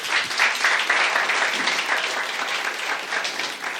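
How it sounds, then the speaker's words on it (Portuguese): A church congregation at a Sunday celebration service bursts into steady, close applause that holds evenly throughout, with no voices on top. "Dê um aplauso a Jesus."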